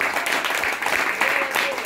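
A church congregation applauds during a sermon, producing a dense, steady clapping that fills the room at moderate loudness without pause.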